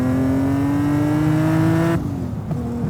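A front-engine, rear-drive BMW M Coupé tuned past 850 horsepower revs hard, its engine note climbing steadily in pitch before the throttle snaps shut and the tone drops away, loud and close with no talking.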